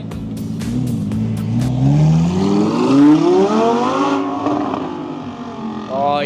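A supercar pulls away from a car meet, its engine revving loud and rising in pitch as it accelerates off, with crowd noise in the background.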